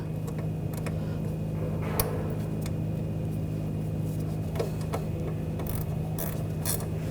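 A ratchet clicks steadily up close while tightening the wheel speed sensor bracket bolt on a 2014-2020 Nissan Rogue during rear upper control arm replacement, with a continuous mechanical hum beneath and a few sharper ticks.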